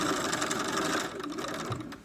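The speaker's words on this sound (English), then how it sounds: "and I just sew straight down." A sewing machine runs in one steady burst while sewing a dart on a small dress for an 11.5-inch doll, close and even-paced and fading slightly at the end, with no talking.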